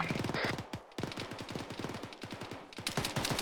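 Rapid bursts of rifle gunfire during a military field training exercise, a fast rhythmic string of sharp close shots with brief pauses between volleys, with voices talking over it.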